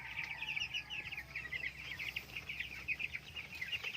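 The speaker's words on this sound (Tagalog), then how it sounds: "ito na yung update sa ating mga 26 days old na mga manok" Twenty-six-day-old broiler chickens cluck and peep steadily in a flock, a faint continuous chatter of many birds with no talk.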